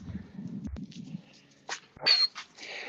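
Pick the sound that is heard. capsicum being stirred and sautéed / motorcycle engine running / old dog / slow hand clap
old dog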